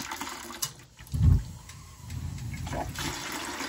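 Water rushing and draining from a steam boiler's low water cut off, a MacDonald 67, a soft gurgling flow with a louder surge partway through that then continues steadily at moderate level.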